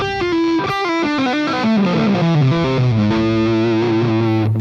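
A distorted electric guitar plays a smooth, fast descending legato run, loud and sustained, settling onto a held low note.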